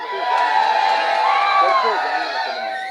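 A dense crowd at a union event erupts in loud cheering and shouting, voices overlapping in a continuous roar with a few higher whoops rising above.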